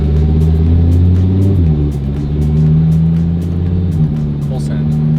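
Lamborghini engine revving hard and accelerating under full throttle, a loud close roar with rising and shifting pitch through the gear changes, continuous for several seconds.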